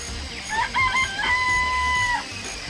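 A rooster crows once in a long drawn-out call amid farm-animal sounds in the Danganronpa video game, loud and close with no talking over it.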